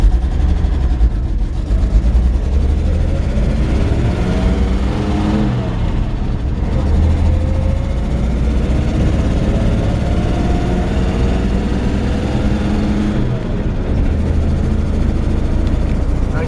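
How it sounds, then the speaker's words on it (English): A rumbling 1953 Chevrolet 5-Window truck engine with an exhaust leak idles and revs steadily, with a raspy, puffing exhaust note running throughout; the sound is loud and close, with no speech over it. "you can hear it's got a little exhaust leak"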